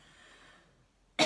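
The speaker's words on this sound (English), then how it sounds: "Smoker cough." A single short, sharp smoker's cough bursts out near the end, after a stretch of faint, quiet room tone.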